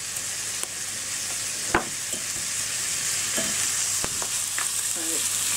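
Pancetta fries for a traditional carbonara, giving a steady close sizzle in the pan with a few sharp clicks and scrapes from stirring, and no voices.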